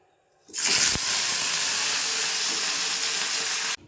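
Okra hitting hot oil for a mustard-sauce dish in a pan, a sudden loud, steady sizzling hiss that holds evenly for about three seconds, then cuts off abruptly.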